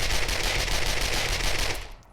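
Rapid SMG fire in 7 Days to Die, a fast continuous stream of click-triggered shots rattling along evenly, loud and close, then cutting off abruptly at the end.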